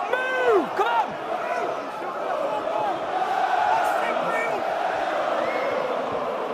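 A rugby league stadium crowd at a Leeds Rhinos versus Bradford Bulls legends fundraiser match gives a standing ovation. Loud, sustained applause and cheering fill the whole stretch, with a commentator's voice over it at the start.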